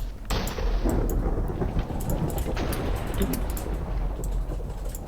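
In the game Minecraft, thunder crashes in loudly and then rumbles under steady heavy rain, with faint voices talking in the background.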